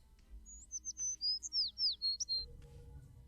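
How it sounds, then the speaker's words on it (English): Bright, high bird chirps in a quick run of about ten clear tweets over a quiet background, playing in a music video. "Birds. In my ears."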